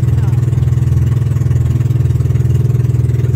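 A small boat engine drones steadily up close with an even, throbbing low hum and no break, out among islands near Coron, Philippines.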